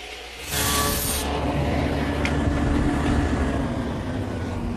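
A saw cuts through cherry wood rails with a steady, harsh rasping roar that starts abruptly and continues loud and close, with no talking.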